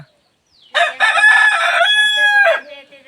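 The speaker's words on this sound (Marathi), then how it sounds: "हा खरबा कोंबडा कोणाचा" A rooster crows once, loud and close, in a long drawn-out call at a hillside herders' hamlet in rural Konkan, where hens sit in a coop, and a brief faint voice follows it.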